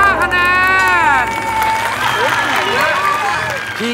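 A studio audience at a Thai celebrity game show applauds and cheers, with crowd noise running under loud, excited host speech and music throughout.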